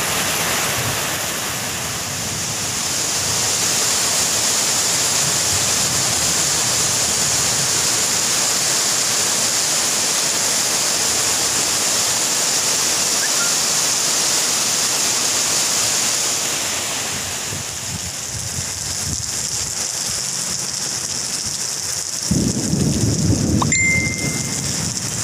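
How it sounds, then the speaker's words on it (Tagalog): Heavy rain pours steadily in a thunderstorm, heard from a third-floor building, with a loud continuous wash of downpour and low rumbling thunder, easing near the end before a closer burst of noise. "nakakatakot ang lakas ng kulog, ang lakas ng ulan"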